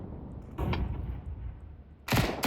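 Flashbang grenade bursts in Counter-Strike 2 on the Nuke map: two sharp broadband blasts, one at roughly half a second and a louder, longer one near the end, over steady low game rumble.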